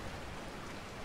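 Steady, even rain in the Resident Evil 4 video game, a soft wash of falling drops with no voices, heard briefly.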